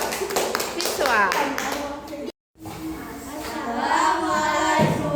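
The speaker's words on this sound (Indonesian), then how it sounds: "Oke, tepuk tangan buat kelompok visual." A group claps in a classroom for another student group, dense broadband applause for about two seconds, a short silent gap, then a noisy room with children's chatter and shuffling.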